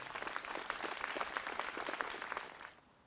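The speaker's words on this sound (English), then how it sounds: "maybe a round of applause here for Tommy Lyons" Audience applause at the Swampscott town Memorial Day ceremony, a steady round of many hands clapping for about two and a half seconds before quickly tapering off.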